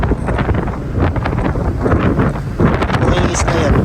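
Strong wind buffets the microphone aboard a boat out at sea, a constant rough roar with gusty swells throughout.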